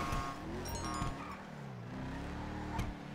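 A Mamba sports car engine in GTA 5 Online hums steadily with a low rumble, a few brief high tones and a faint knock near the end, close and fairly loud.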